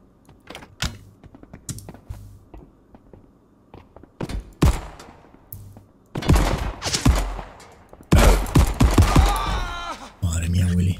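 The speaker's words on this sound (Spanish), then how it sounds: "¡Oh, llevo una ametralladora!" Automatic gunfire from a machine gun in the sci-fi space shooter Marauders, coming in short clattering bursts between quieter moments, with a long dense volley near the end of the stretch.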